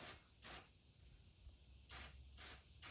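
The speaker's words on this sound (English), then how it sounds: "I've got some old Rust-Oleum paint laying around, so I'm just going to coat that." Rust-Oleum primer paint sprayed from a can onto a truck's fuel door: three short, close hissing bursts, the first single and then two more near the end, separated by quiet pauses, with no talking.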